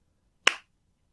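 One sharp, close hand clap rings out alone in silence, a single crisp slap with a very short decay.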